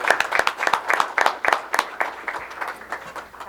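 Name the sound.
audience applause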